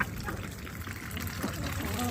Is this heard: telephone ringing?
no